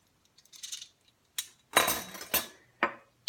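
Vanilla is whisked into a ricotta pie filling in a bowl, a few quiet, separate bursts of metal scraping and clinking against the bowl with short pauses between them, no talk.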